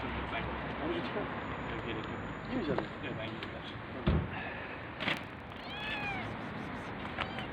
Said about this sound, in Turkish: Kedi bak.